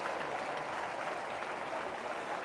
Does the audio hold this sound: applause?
yes